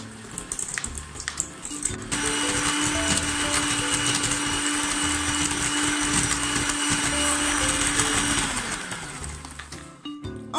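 An electric mixer whirs steadily through fat-free chocolate cake batter with cocoa powder for several seconds, a loud, even motor whine framed by quieter bowl clatter before and after.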